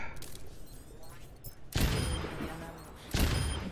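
Two loud gunshots in a first-person shooter, each a sharp booming crack with a ringing tail, spaced about a second and a half apart over quieter in-game background noise.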